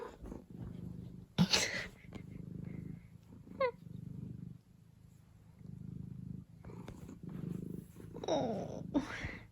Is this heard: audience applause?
no